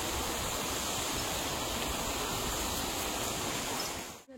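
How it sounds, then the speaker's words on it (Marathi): Water rushes steadily near a small bridge along a forest trail in Meghalaya's living root bridge country. The hiss is dense and close, holds without a break, and drops away at the very end. "इकडे पाण्याचा आवाज येतोय."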